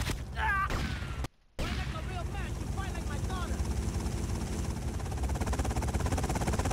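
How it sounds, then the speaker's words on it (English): A helicopter in the video game Grand Theft Auto: Vice City makes a loud continuous rotor and engine drone, broken briefly by a short cut to near silence, with gunfire-like bursts and a person talking over it. "Tommy, take that chopper out!"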